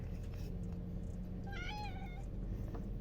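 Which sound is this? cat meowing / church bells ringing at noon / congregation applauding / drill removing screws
cat meowing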